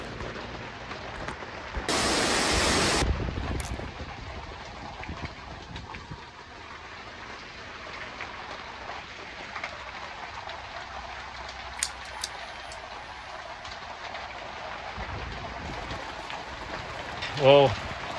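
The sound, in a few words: heavy rain pouring down on a tent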